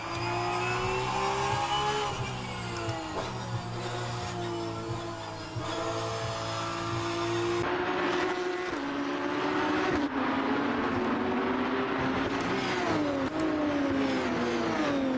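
Porsche GT3 Cup 992 race car engine revving loudly at the Hungaroring during an SRO Euro Series race, a steady close-up onboard drone that rises and falls through gear changes, with a brief harsher shift partway through and no talk.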